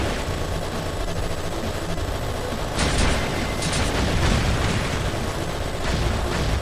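Dense, rapid bursts of cannon fire and booming explosions pile up continuously, loud and chaotic, from a boss battle in the video game Bugs Must Die.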